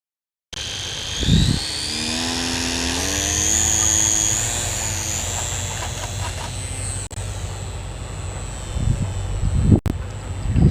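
A Harbor Freight P-51 RC model airplane's electric motor whines steadily with shifting pitch as it flies, near and fairly loud, with occasional thumps and wind buffeting.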